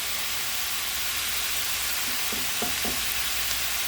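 Shredded cabbage sizzles and fries in a crowded skillet, a steady close hiss with faint crackles and a few brief stirring scrapes near the end.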